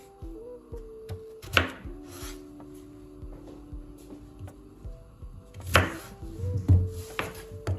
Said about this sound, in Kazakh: Осылай жаркөйге турағандай ірі қып тураймын.